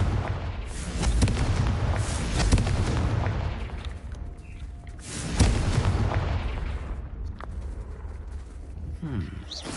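Confringo explosion spell in a Harry Potter video game, with two loud booming bursts about three seconds apart over a dense, constant game background.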